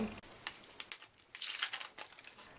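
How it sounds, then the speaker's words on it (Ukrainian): Crinkling and rustling of cardboard cosmetics packaging being handled and cut with scissors, irregular scraping bursts close by, fairly quiet. "зараз будемо ножицями все це відкривати і дивитися, що там"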